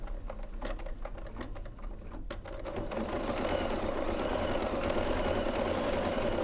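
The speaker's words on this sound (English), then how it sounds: "it does a little bit of underlay stitch, and then it will go in and do the satin stitch on the top" An embroidery machine stitches underlay with a fast, steady mechanical patter, starting with sparse ticks that build into a continuous buzzing hum, close and fairly loud.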